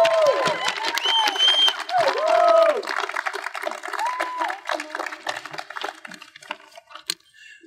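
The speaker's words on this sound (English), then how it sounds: "let's give a big round of applause to our grads and the great things they will accomplish" A crowd applauds graduates at a 2020 graduation ceremony, with sustained clapping and cheering mixed with whistles and voices, gradually fading toward the end.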